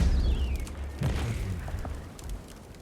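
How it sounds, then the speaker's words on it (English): Missiles fired from the back of a giant flying turtle mount in Guild Wars 2 boom out in a low, rumbling burst with a thudding pop near the start, then fade into a soft, lingering roar. "I can sit in the back of his turtle and I can shoot missiles"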